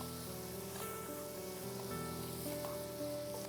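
Mushroom and baby corn biryani mixture with mint and coriander sizzling in a pan as it is stirred, a continuous close frying hiss with soft scraping, no voices.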